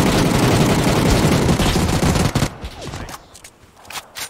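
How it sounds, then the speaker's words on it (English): Rapid automatic gunfire in PUBG rattles loudly and densely for over two seconds, then cuts off, leaving a few quieter scattered sounds. "We're getting shot at from 40."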